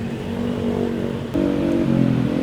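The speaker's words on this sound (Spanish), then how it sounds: "hace rato que estamos atascados en el tráfico" Street traffic in Denpasar, Bali, heard from a motorbike stuck in a jam, with a continuous engine drone and nearby vehicles humming and revving, loud and close with no talk.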